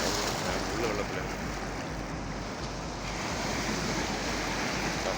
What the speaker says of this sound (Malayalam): കടലടിച്ച് കയറുകയാണ്.